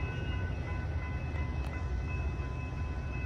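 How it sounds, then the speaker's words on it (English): A BNSF train arriving at Downers Grove station, a steady loud low rumble of rolling rail cars close by with a faint tonal hum, continuous with no talk. "Train number 1211 2R is now arriving."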